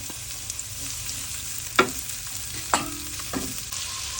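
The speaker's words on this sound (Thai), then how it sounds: "ใส่หอมใหญ่ผัดให้หอมเลยค่ะ" Onions sizzle and crackle in hot oil in a pan, with a few sharp scrapes and clanks of a utensil stirring them.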